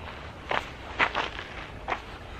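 Faint footsteps of people running up from behind, a few separate soft thuds spaced about half a second apart over a low background hiss.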